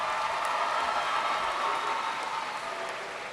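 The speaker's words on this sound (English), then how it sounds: "Let's give him a big round of applause to congratulate." A commencement crowd applauds a graduate in a large hall, producing a smooth, distant wash of clapping that holds steady and eases slightly toward the end.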